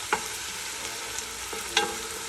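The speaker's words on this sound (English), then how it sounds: "Now we're adding the ginger paste and garlic paste. I'm going to saute this for a couple of seconds." Ginger paste and garlic paste sauté in butter with a steady close sizzle, broken by a few sharp stirring clicks of a utensil against the pan, and no talking.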